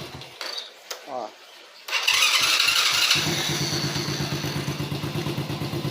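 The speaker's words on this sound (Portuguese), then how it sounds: "Moto funcionando no start" A Honda Biz motorcycle engine cranks on its electric starter, catches after a short whir and settles into a steady, close idle with a rhythmic putter; brief speech precedes the start.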